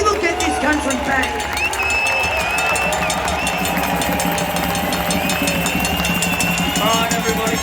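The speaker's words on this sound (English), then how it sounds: "keep the round of applause going" A protest crowd at Parliament and Treasury Gardens in Melbourne cheers and applauds steadily, a dense outdoor roar with whoops and voices layered over it throughout.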